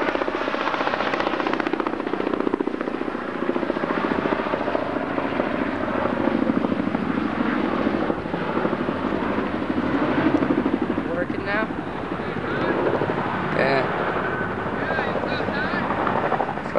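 Helicopters flying overhead in the aftermath of a tornado outbreak in Kissimmee, a loud, continuous thudding rotor drone that persists for the whole stretch while people talk beneath it.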